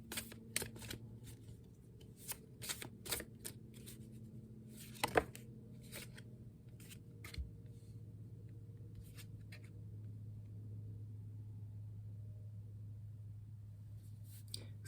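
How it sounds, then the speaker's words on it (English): Everyday Witch tarot cards being shuffled by hand: a quiet run of soft papery snaps and flutters in uneven bursts over a low background hum, then the handling fades into near stillness. "But let's do some shuffling."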